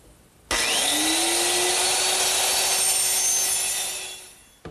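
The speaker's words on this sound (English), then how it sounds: "Now to trim the ends of both the seat and all the cross members, I'm just going to use my little lightweight circular saw" A small lightweight circular saw trims the ends of a wooden seat and cross members, a sharp whine spinning up and cutting steadily for about four seconds before winding down, loud and close.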